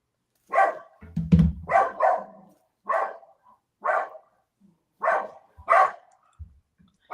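A dog barks close and loud in a spaced series of about eight sharp barks. A low rumble comes in early under the first few.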